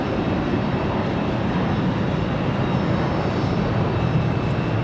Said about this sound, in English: It's A319 coming in from Chicago O'Hare